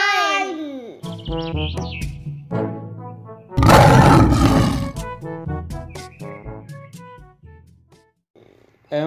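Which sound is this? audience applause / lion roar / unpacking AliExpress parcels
lion roar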